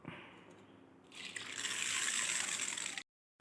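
Water pours steadily into a vessel of about 100 grams of chana dal to soak it, starting with light trickling and then swelling into a loud close gush that stops abruptly.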